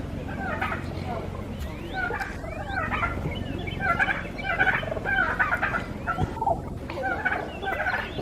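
Wild turkeys at a city zoo, gobbling and clucking repeatedly in rapid bursts throughout, fairly close, with people talking over them.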